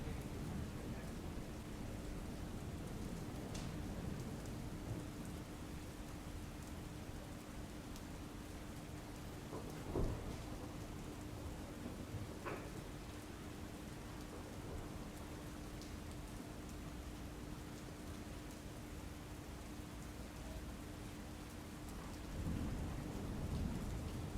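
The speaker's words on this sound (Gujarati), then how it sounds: "ભૂપેન્દ્ર ભારે વરસાદના કારણે કોમ્પ્લેક્સ આખે આખા પાણીમાં ગરકાવ થયેલા જોવા મળી રહ્યા છે" Heavy rain hisses continuously during flooding in Dahod, Gujarat, with a few sharp thunder cracks and low rumbles breaking through the constant downpour; no one speaks.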